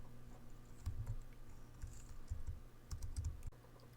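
Computer keyboard keys pressed for Option Page Up and Option Page Down shortcuts, a few soft close clicks and taps in small clusters over a quiet room hum, with no talking.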